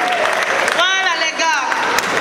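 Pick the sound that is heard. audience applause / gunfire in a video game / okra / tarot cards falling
audience applause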